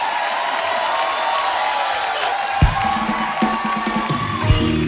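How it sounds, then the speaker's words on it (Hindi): A studio audience on a comedy show claps and cheers steadily throughout, a dense, bright wash of applause with a few louder thumps near the end. "ये ताली मेरी बात पे हो रही है या उसके काम पे हो रही है?"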